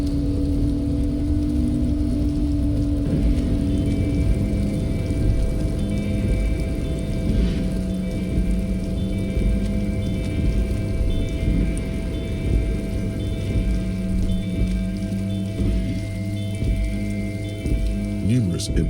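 Steady rain falls across a dim outdoor scene in the video game Disco Elysium, a dense, continuous hiss of drops with low ambient rumble and faint tonal hums from the game's soundscape throughout.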